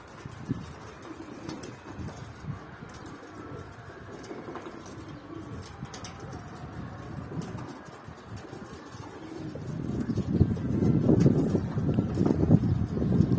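Pigeons coo softly against light wind, the cooing growing louder and denser near the end.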